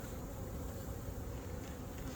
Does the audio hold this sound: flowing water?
no